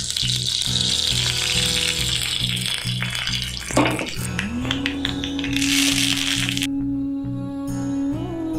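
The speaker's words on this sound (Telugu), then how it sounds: "ఆయిల్ అయితే వేడిగా ఉంది కాబట్టి తాలింపు కూడా పెట్టేసుకుంటున్నాను నేను." Spices crackle and sizzle in hot oil as tempering for a raw mango coconut chutney, a steady close frying hiss with scattered pops throughout, joined later by a faint tonal hum.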